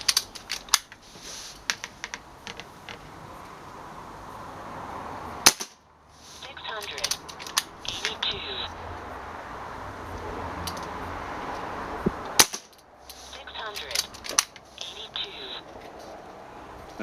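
Sharp, snappy shots from a Kral Puncher N-07 air rifle crack out several times at irregular intervals, with someone speaking quietly between them and faint mechanical handling noises.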